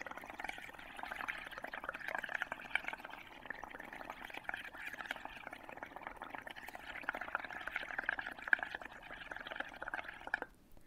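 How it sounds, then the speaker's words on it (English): Air blown through a straw into a pink bowl of bubble-printing liquid, producing a steady close bubbling gurgle that runs continuously for about ten seconds and then stops, with no talking. "we are going to grab that straw and we're going to blow some bubbles."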